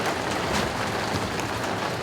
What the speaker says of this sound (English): it really just started to rain